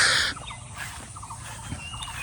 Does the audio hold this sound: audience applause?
no